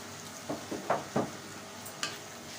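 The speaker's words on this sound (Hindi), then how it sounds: "कम से कम 15 मिनट के लिए हम इसी तरीके से भूनते रहेंगे हल्की आंच पे" Ginger chicken with yogurt being stirred and fried on low heat, a faint soft sizzle under a few light scraping stirs of a spoon in the pan, with no voices.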